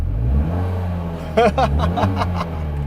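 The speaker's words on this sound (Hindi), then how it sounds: "Let's start the car. 2 cylinder engine का नॉइज बाहर से सुनोगे तो ऑटो रिक्शा जैसा लगेगा" A Tata Nano's 600 cc two-cylinder engine starts up nearby with a low, throbbing idle and a brief rougher burst as it catches, then settles back to a steady drone.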